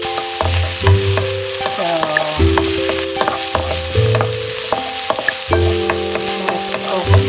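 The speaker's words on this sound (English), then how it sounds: "And then we will saute the spices. So first, onion." Onion sautés in about a teaspoon of oil left from frying tofu in a pan, a steady loud sizzle with clinks and scrapes of stirring throughout, close up.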